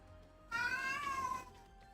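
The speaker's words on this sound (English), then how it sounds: "now my cat is making as much noise as humanly, not humanly, but as much noise as possible" A house cat gives one loud, drawn-out meow of about a second, close to the microphone, with faint background noise before and after.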